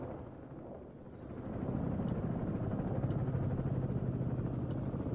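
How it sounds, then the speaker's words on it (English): Several military helicopters fly overhead in the Broken Arrow video game, a low continuous rotor rumble that swells after the first second and holds steady, with faint high clicks from the game over it. "Some helicopters. Ooh, lots though. Lots of helicopters."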